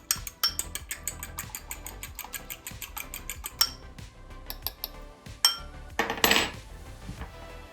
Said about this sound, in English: we're gonna take an egg, and we're just gonna beat up one egg